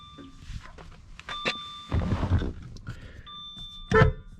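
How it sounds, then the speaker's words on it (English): Horn of a Jaguar XJ6 sounding in two short steady blasts, near and fairly loud, with engine and cabin noise in between. "Horn works."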